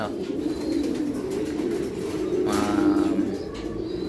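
Racing pigeons in Cavite, Philippines coo softly and repeatedly over a steady background murmur, with a slightly louder coo near the end.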